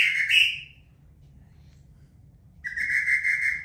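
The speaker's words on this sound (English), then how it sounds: "Then over the years, I found this whistle." A whistle blown in two shrill bursts, a short one followed after a pause by a longer steady blast, loud and close.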